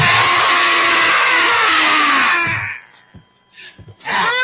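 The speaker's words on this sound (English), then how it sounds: "On three, we gonna scream, all right?" An audience screams together on a count of three: a loud, sustained roar of many voices for about two and a half seconds, then a sudden drop to near silence with a few small noises before sound returns.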